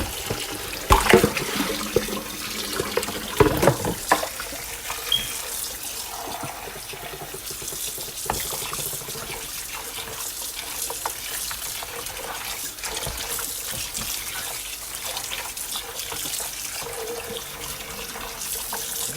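Tap water running steadily into a sink while raw chicken is rinsed, a continuous close splashing hiss with a few louder clunks and handling noises near the start.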